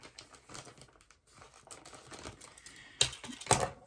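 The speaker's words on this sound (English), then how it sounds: "I have scissors. I'll just cut the bag." Scissors slice open a plastic mail bag, with soft crinkling and rustling of the plastic followed by two sharp, louder snips close together near the end, with no talking.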